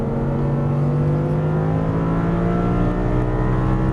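An Audi R8 V10 accelerates hard on a race track at Exotic Racing Las Vegas, with a loud, close engine note that climbs steadily in pitch as it revs under throttle.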